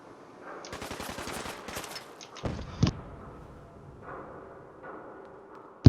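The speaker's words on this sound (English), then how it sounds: "it's a super mutant in the building, like trying to rocket attack me or something. I keep hearing explosions." Explosions from a super mutant's rocket attack in Fallout: a rapid burst of sharp blasts, then a couple of heavier booms and a final sharp hit, fairly faint and distant.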